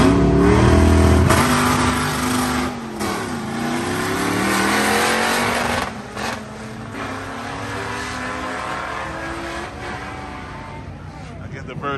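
A classic Datsun Z car races a Mustang at Atlanta Motor Speedway during a Caffeine & Octane event, engines roaring loud and steady with revving swells, while a voice talks over the noise.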